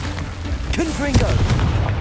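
A Confringo explosive spell blasts in Hogwarts Legacy: booming, crackling bursts in a chaotic fight, mixed with a voice shouting over the noise.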